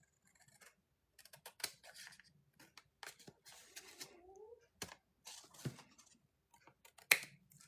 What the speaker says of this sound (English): Somehow this is not lining up, so we're just going to cut it off.